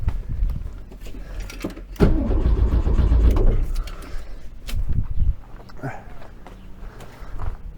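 A 1915cc engine in a VW Beetle 1303S being turned over by the starter, a brief cranking whir that bursts in and drops away, with clunks and handling noises around it and someone talking nearby.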